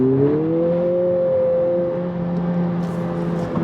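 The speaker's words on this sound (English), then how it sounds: "the tires spun a little bit" A 2020 Honda Civic Si with a slipping-clutch problem revving on a slightly wet road as its tires spin briefly, heard as a steady rising engine drone with a smooth whirring tone, close and fairly loud.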